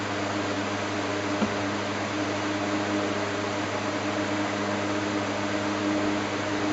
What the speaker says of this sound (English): Blow the dust out so it sits flat.